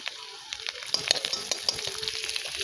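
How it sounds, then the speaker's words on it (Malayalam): Garlic and green chillies fry in hot ghee with a close, steady sizzle, broken by crackles and occasional stirring clicks of a utensil. "അതിലോട്ട് നെയ്യ് ഒഴിച്ചു കൊടുക്കണം. വെളുത്തുള്ളി ഇട്ട് കൊടുക്കണം."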